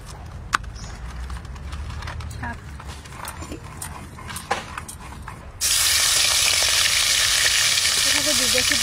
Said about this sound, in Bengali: কড়াই গরম হয়ে গেছে, তেল দিয়ে দেবো।